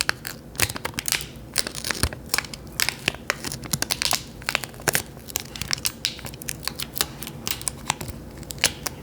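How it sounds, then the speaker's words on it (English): Packing tape is pulled and pressed onto a package, giving close, crackling rips and crinkles in quick irregular bursts with no talking. "let's just tape it up right now"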